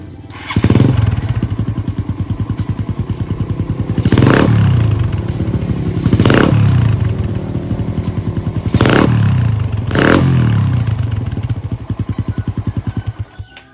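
A Raider 150 motorcycle with an APIDO exhaust pipe idles with a fast, steady putter, broken by five sharp throttle blips that flare up and fall back.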